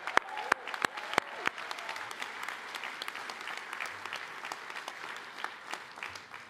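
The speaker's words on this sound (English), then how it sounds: "Just a round of applause" A convocation audience at a graduate school of education gives a steady round of applause for faculty and staff, with a few sharp, close claps standing out from the dense crowd clapping.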